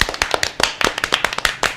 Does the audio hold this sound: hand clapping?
yes